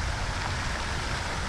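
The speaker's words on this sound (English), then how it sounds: "You can see the rain right there." Steady rain from a passing storm hisses evenly over an outdoor fishing spot, a dense unbroken wash of drops with no voices.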